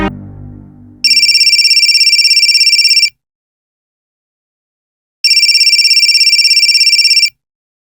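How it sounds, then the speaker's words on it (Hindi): A mobile phone ringtone sounds twice, each electronic ring lasting about two seconds with a pause between, loud and clear against silence. "आनंद बेटा, तुम्हारा फोन बज रहा है।"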